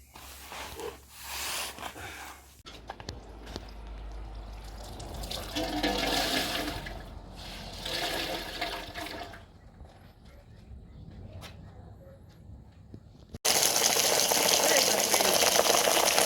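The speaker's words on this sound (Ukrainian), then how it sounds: "Набираємо водичку свого колодца." Well water gushes and churns into an Intex pool being set up, with rushing and gurgling that shifts in strength before a loud, steady flow at the end; a voice is heard speaking.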